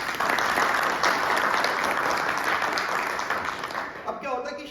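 A seated audience at a financial planning training session breaks into dense, sustained applause that fills the room before slowly tapering off, and a voice briefly returns at the end.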